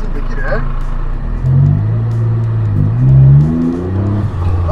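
A Suzuki Carol pulls away from a stop, its small engine rising in a revving drone close by, with people talking over it.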